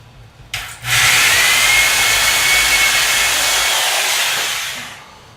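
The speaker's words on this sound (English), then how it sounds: "just pilot a second hole" A power drill whirs loudly at a steady pitch while boring a pilot hole for a bookshelf screw, then winds down after about four seconds.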